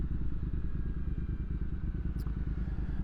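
Rebuilt 2022 Triumph Speed Twin motorcycle engine cruising near 5,000 RPM at highway speed, a steady, close, loud droning buzz with constant pulsing throughout and no one speaking.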